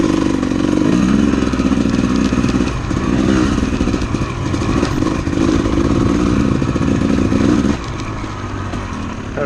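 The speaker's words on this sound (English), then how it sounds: "Oh, side by sides." Side-by-side off-road vehicles pass on a forest OHV trail, their engines a loud, continuous rough drone and rev, close to the recording dirt bike, easing slightly toward the end, with no talk.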